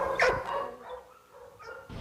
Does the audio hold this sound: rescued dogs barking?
yes